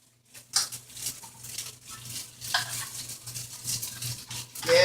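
Beef and broccoli browning in a pan give a soft, close crackle and sizzle, broken by spatula scrapes and stirring noises, with no talking.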